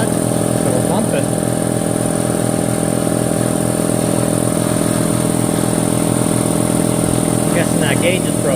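An air compressor that has just been repaired runs and builds pressure, a loud, steady mechanical drone with a constant hum that never lets up, while faint voices come through beneath it.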